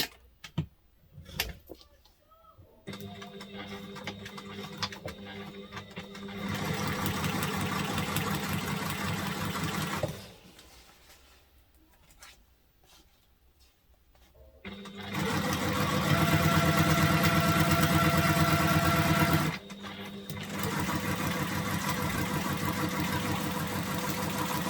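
A sewing machine stitches down a zipper pocket in close, steady runs of rapid mechanical clatter, starting and stopping several times with quieter handling gaps between the longer bursts.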